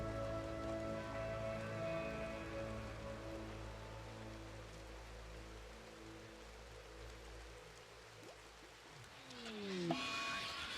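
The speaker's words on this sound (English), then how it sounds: "And the foggy rain does not help this matter." Foggy rain in the RimWorld video game, a soft, faint patter and hiss heard alongside sustained low musical tones, ending with a brief swelling rise, with no voices.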